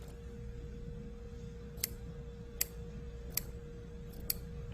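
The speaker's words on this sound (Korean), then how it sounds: "이것도 가위밥을 내줍니다." Scissors snipping into the seam allowance of a quilted Santa basket, four sharp, isolated clicks spaced about a second apart over a low, steady background hum.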